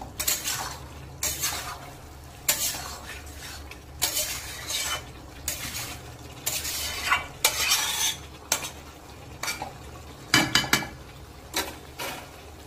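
Chicken masala is stirred and fried in a pan, with a spoon repeatedly scraping and clattering against the metal in irregular strokes over a low sizzle. The sound is close and there is no talking.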